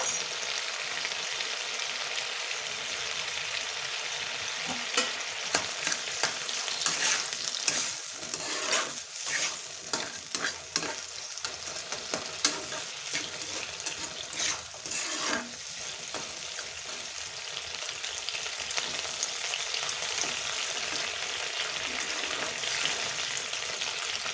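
Jaggery tipped into a frying pan of spiced grape pickle, a steady sizzle with stirring scrapes running throughout, close and fairly loud with no talk.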